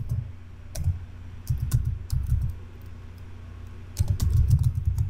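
Fingers tap out a search on a computer keyboard in short clustered bursts of soft clicks separated by pauses, close and fairly quiet, with no voices.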